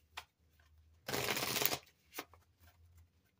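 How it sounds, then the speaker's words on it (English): A tarot card drawn from the deck during a reading, heard as a brief burst of rustling card shuffling with a couple of light, close taps before and after, quiet and alone. "I want to pull one more card for clarity on the cards that we're seeing now"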